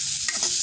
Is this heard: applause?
no